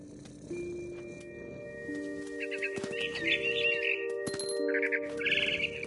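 In the video game What Remains of Edith Finch, a bird chirps in short bright bursts over steady sustained music tones, with soft fluttering and twittering building toward the end.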